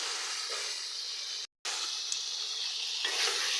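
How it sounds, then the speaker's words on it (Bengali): Mud fish sautéed in a pan over a lowered flame gives a continuous loud sizzle and crackle, broken once by a brief silent gap, with no talking. "এবং চুলার আঁচটা কমিয়ে দিয়ে একটু কষিয়ে নিই।"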